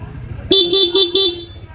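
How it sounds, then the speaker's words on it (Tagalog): Four loud, rapid honks from an aftermarket loud horn on a Honda ADV 160 scooter, bright and blaring, sounding close by in a quick, even rhythm. "Loud horn."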